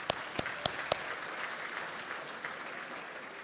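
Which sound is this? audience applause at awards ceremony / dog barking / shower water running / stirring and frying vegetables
audience applause at awards ceremony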